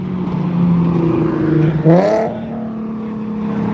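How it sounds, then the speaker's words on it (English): A race car at the Wisconsin Dells Automotion car show revs up close and loud, the engine pitch climbing sharply as it launches and pulls away, then settling back into a steady drone. "Here we go, racing again."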